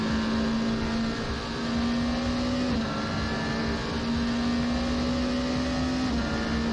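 Scuderia Glickenhaus SCG 007 race car in Assetto Corsa, its engine holding a steady, loud droning note at near-constant revs with a slight dip midway, heard alone without talk.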